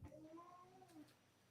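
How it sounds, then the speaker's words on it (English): A single cat meows in a drawn-out, wavering cry lasting about a second, faint and slightly distant, with quiet room tone around it. "My cat is just going crazy."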